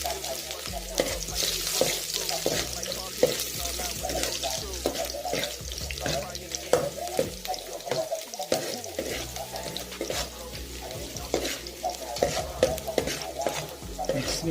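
Vegetables for ampalaya con sardines are sautéed and stirred in a pan, with a steady sizzle under frequent scraping and clinking of the utensil, while a low hum runs in the background.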